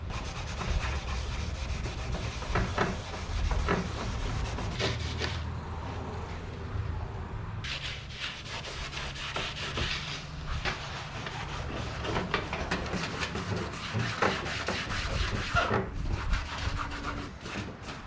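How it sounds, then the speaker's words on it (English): A Scotch-Brite pad rubs steadily across the vinyl dashboard of a 1977 Datsun 620, making a continuous close scratchy scrubbing with a few brief pauses and shifts in stroke. "Can you Scotch-Brite a vinyl dash?"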